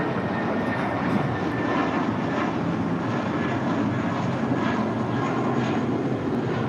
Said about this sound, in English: That is American Airlines 2780 departing to Austin, Texas on the A319